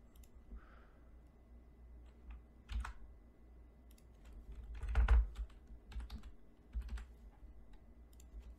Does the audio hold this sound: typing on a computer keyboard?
yes